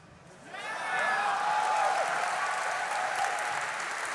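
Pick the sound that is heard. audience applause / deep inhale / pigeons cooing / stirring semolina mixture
audience applause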